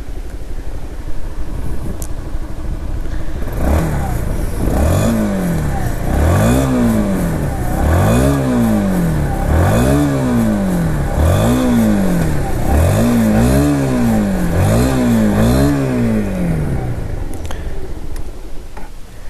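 Honda NS160 motorcycle engine revved repeatedly in a steady rhythm of about nine rising-and-falling blips over a continuous idle, loud and close, with no talking.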